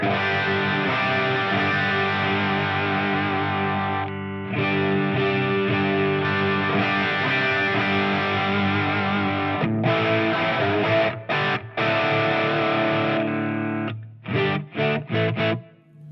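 Electric guitar on the humbucker pickup of a Fender American Professional Strat through a Victory Sheriff amp, thick sustained distorted chords ringing continuously, then short choppy stabs with gaps near the end, loud and close, no voice.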